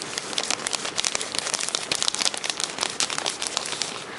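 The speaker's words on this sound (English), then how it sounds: "now I'm going to be using the tissue paper to try to erase this" Tissue paper rubs and wipes ink off a homemade whiteboard, giving a steady close crinkling, scratchy rustle with quick strokes that continue throughout, with no voices.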